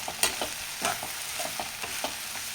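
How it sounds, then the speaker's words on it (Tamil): Tomatoes and tamarind sautéing with onions in a pan for onion chutney, a soft continuous sizzle punctuated by regular spoon scrapes and taps roughly every quarter second, close by, no voices. "தக்காளி நல்லா வதங்கி வரட்டும்."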